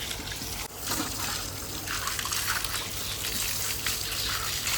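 A steady, strong rush of water pumped by a motor pouring and splashing continuously, close by, with no talking over it.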